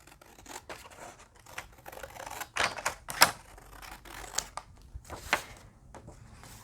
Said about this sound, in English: the back flaps, I won't be needing those, so I'm going to just cut them off